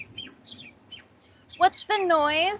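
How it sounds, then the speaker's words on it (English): Birds chirp right outside a van parked near a beach, with a few faint calls and then louder, drawn-out squawking tweets after a person briefly speaks. "there are birds chirping right outside the van"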